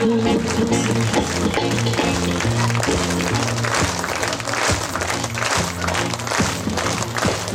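An audience claps steadily at a live Marathi devotional song concert, the applause blending with a throbbing live band and percussion for several seconds.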